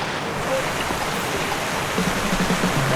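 Steady rain patters in an even, moderate hiss that holds throughout, with no clear talk over it.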